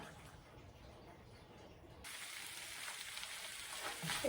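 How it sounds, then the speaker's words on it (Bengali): Egg scrambled in a little oil in a pan sizzles with a soft, continuous hiss that grows louder and brighter halfway through, close by and without talking. "একটু তেল ছিল ডিমে সেটা দিয়ে এভাবে ঝুরা ঝুরা করে নেবেন ডিমাটা"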